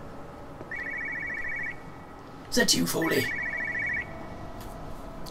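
A telephone rings in the video game Everybody's Gone to the Rapture, two trilling electronic bursts separated by a pause, with a voice speaking briefly between them over a steady ambient hum.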